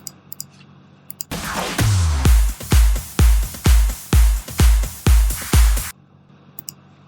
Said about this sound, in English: All the drums together sound a bit like this